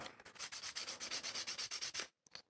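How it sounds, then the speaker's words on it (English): The plastic nut of a pine guitar is sanded by hand: about fifteen quick, even back-and-forth scrapes in a steady rhythm, close and clear, then a short pause and two final light strokes. "less plastic looking by just sanding it down ever so slightly, getting that shiny plastic feel"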